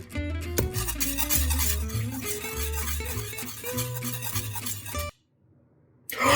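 Water being whisked by hand for a hollandaise sauce gives a scraping, rasping stir that runs continuously under music, then cuts out abruptly near the end.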